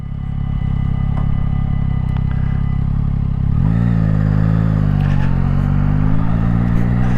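A 2025 Yamaha MT-09 with the Y-AMT automated transmission idles with a steady low rumble, then the throttle opens just past halfway and the engine note climbs and sweeps upward into a loud, sustained acceleration close by.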